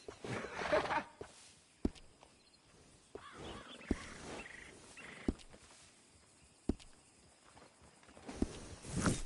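Horse hooves at a stable in the video game Red Dead Redemption 2, a few sparse, sharp hoof clops spaced about a second apart over soft rustling ambience.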